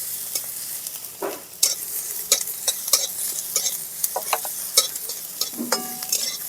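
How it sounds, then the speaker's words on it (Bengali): Three chopped green chillies go into lightly fried onions in a hot pan, giving a steady oily sizzle broken by repeated scraping stirs and clinks of a spatula against the metal. "এবার আমি এর মধ্যে দিয়ে দিচ্ছি কাঁচা লঙ্কা কুচি"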